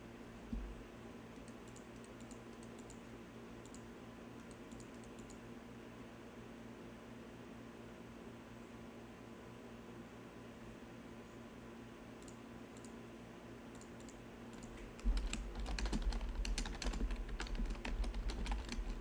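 Keys clatter on a computer keyboard during a writer's livestream, a quick burst of close, crisp taps standing out at the end above a steady hum of fan or room noise.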